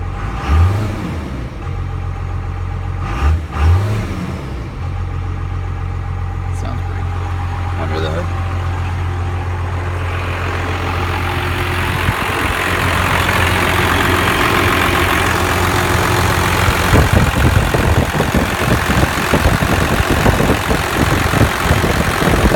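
A 1995 Dodge dually with a 12-valve Cummins diesel idles cold with a deep, close rumble, a few sharp knocks near the start, and the engine note rises later; someone talks over it.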